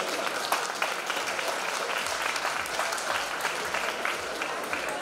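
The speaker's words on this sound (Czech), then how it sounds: "No a to první potlesk" An audience at a Klatovy dance-course ball claps in sustained, dense applause, many hands together at a moderate distance, steady throughout.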